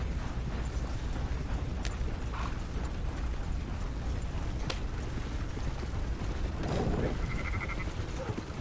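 Sheep bleat faintly within a mechanical, ratcheting game soundscape from Red Dead Redemption 2, a few brief calls rising above steady background noise.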